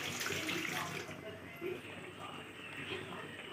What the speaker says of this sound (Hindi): अभी मम्मी थोड़ा सा पानी डाल रही है।